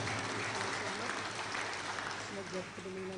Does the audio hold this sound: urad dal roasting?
no